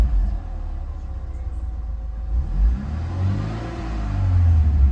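A car engine idles steadily after a timing chain tensioner upgrade, a low, even rumble with no hunting or surging, close and continuous throughout.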